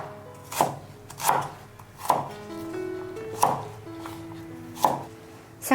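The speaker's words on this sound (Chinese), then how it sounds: "再来准备一些料头，把小洋葱跟姜、蒜都切成粒。" A knife chops shallots, ginger and garlic on a wooden board in five distinct, evenly spaced thuds, close and clear with a quiet background.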